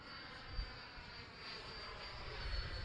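A Freewing L-39 RC model jet in Russian camo livery takes off on its maiden flight, its steady whooshing ducted-fan whine holding level and swelling slightly toward the end, heard alone without talk.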